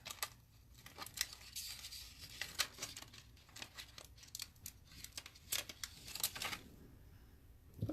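Scissors cut a paper scrapbooking template, making crisp, irregular snips and crinkles up close that come in quick bursts with short pauses, with no talking.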